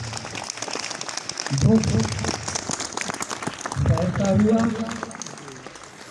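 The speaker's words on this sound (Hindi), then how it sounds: "जोरदार तालियों के बीच में" Applause from a crowd at a Republic Day ceremony, rough and continuous clapping with two louder bursts where a voice briefly speaks over it.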